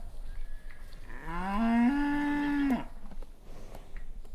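A single cow in a stable lets out one long, rising moo that lasts over a second, loud and close, against a low rumbling barn background.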